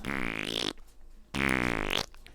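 Two loud, buzzy fart sound effects, each lasting under a second with a brief gap between, played up close with no talking over them.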